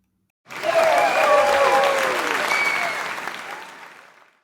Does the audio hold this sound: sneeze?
no